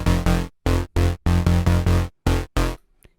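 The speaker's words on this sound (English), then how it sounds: "Added some shaper box to it." A synth note chopped by a ShaperBox rhythmic volume pattern stutters in short, loud bursts with sharp gaps between them, about ten pulses in an uneven rhythm before falling quiet.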